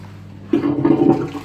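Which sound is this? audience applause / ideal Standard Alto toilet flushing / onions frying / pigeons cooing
ideal Standard Alto toilet flushing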